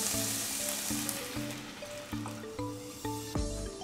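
Japanese dashi broth for mapo tofu returns to a boil in a pot, giving a steady bubbling hiss close by, with a faint repeating tonal pattern underneath and no voices.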